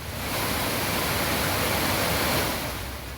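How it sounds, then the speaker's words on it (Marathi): Water thunders out of the Nandur Madhmeshwar dam in Nashik during a release, a loud, steady wall of rushing roar that stays constant for the whole stretch with no voices. "नाशिकच्या नांदूर मधमेश्वर धरणातून पाण्याचा विसर्ग सुरू आहे"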